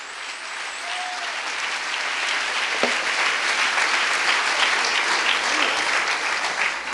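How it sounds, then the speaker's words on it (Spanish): A church congregation applauds, sustained dense clapping from many hands that swells slightly and stays loud throughout, with faint voices mixed in. "Denle un aplauso fuerte al Señor."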